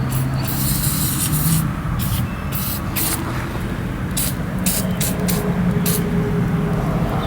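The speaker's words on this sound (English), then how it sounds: "So I just blasted it with my favorite product for releasing bolts" Release All penetrating spray blasted onto crusty, RTV-sealed bolts on an air-cooled 2.0L VW bus engine: a steady hissing aerosol spray over several seconds, with brief louder bursts and a low background rumble.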